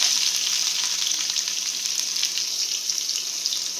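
Cumin, fennel and crushed ginger and garlic sautéing in hot oil for egg soup, a steady close sizzle with faint stirring, no voices.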